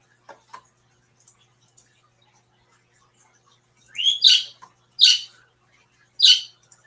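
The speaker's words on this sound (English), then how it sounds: "There's a pretty bird." A pet bird chirping close by, a few faint ticks followed by three sharp, bright squawky calls spaced about a second apart against near silence.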